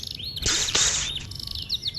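A canary sings close by in bright, high chirps and rapid trills, with a dense burst of song in the middle and short repeated tweets before and after.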